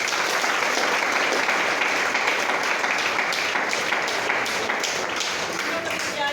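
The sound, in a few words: audience applause for the gurus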